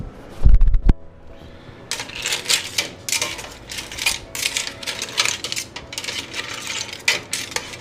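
Linguine and clams tossed in a pan, with clam shells clattering and rattling in quick, uneven scrapes after a brief metallic knock, close and fairly loud without talking.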